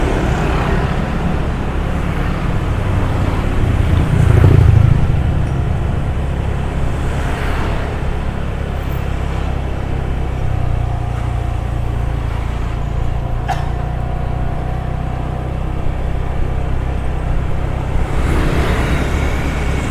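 A car drives along a quiet street in Seminyak, Bali, its engine and road noise forming a steady, loud rumble throughout with no talking.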